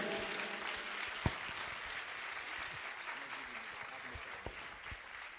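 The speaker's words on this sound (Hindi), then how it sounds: "तालियां बजती रहना चाहिए।" Steady applause from a gathered audience at a religious commemoration festival and poetry gathering, a continuous wash of clapping with a few sharper individual claps standing out, sustained at moderate loudness without pause.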